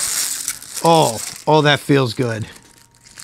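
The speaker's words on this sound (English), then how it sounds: "We all know that feeling when you just scrape the plastic off the pick guard." Protective plastic film being peeled off a guitar pickguard gives a short crinkle at the start, then someone speaks over softer rustling.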